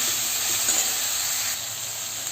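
Water poured into a pan of frying chicken for a boiled chicken dish, a loud continuous hissing sizzle and steam rush that eases slightly toward the end, with no voices.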